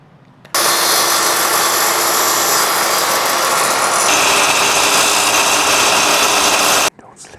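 Power saw cutting a luxury vinyl plank (LVP) flooring piece for a stair, a loud steady whine that starts abruptly, shifts pitch midway through the cut and stops suddenly after about six seconds.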